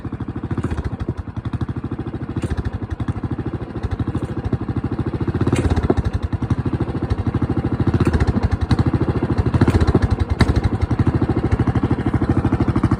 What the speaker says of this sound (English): got my straight pipe going, my engine going with the straight pipes